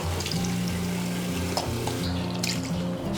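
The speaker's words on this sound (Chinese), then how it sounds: "然后以后我们再来清洗哈，这样子可以洗掉骨头里面的血水" Chicken legs are rinsed in a kitchen sink, with running water splashing and sloshing steadily close by and no talking.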